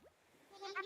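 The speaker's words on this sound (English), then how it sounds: "Sweet little Billy goat." Billy, a goat villager in Animal Crossing, gives a short nasal bleating babble that rises toward the end, close and fairly quiet, after a brief faint sound at the start.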